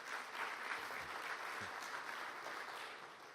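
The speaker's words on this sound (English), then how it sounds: "you're clapping at something that's completely normal" Steady audience clapping fills a presentation hall, a continuous wash of many hands at moderate distance, fairly faint and slowly tapering toward the end.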